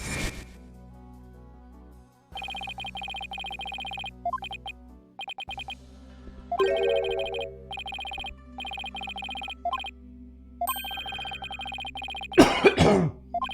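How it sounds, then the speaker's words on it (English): A person coughs a few times in a short, harsh burst near the end, preceded by Ace Attorney: Spirit of Justice video game music with beeping, ringing tones. "I'm surviving decently, but I'm still coughing."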